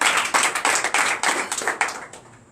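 A church congregation claps during a night prayer and deliverance service. The claps are sharp and come in a loose, uneven rhythm. The sound is moderately close and fades out toward the end with no talk over it.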